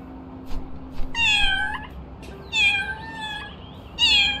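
A cat in the video game Little Kitty, Big City gives three clear, close meows, evenly spaced with short pauses between them.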